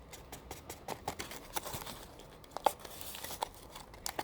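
Close, quiet tearing and crinkling of package wrapping, with irregular short rips and rustles in uneven bursts throughout.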